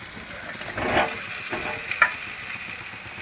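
Spice paste and ridge gourd sizzle in a hot pan while being stirred, giving a steady frying hiss broken by a few scraping strokes of the spoon, close and fairly loud.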